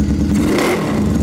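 A small Honda engine revs steadily with a buzzing, clattering drone, loud and close throughout.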